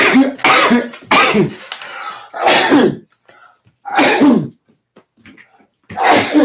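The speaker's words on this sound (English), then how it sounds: "so many sneezes" Four loud sneezes in quick, irregular succession, each a sharp burst, with short quiet gaps and one final sneeze after a pause.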